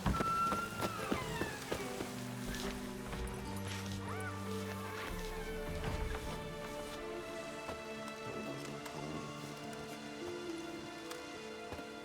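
Rain falling in The Witcher 3, a steady wash of drops under a layer of game music and ambient sounds, with occasional crow caws and horse hooves mixed in.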